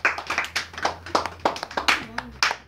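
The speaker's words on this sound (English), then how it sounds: "Everybody give Makra a clap." An audience at a young entrepreneurs' day camp claps for a participant, a short burst of brisk, uneven hand clapping from a small group close by, with a voice speaking briefly near the end.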